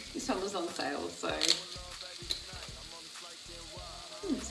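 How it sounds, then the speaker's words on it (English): Merlot red wine splashed into a hot pan of garlic chicken, crackling and sizzling close up, with bursts of spattering and stirring scrapes, a voice briefly talking over it. "So I'm going to add just some red wine. I'm just adding a Merlot."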